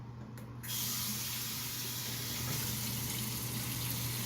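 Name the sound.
running water while washing face with cleanser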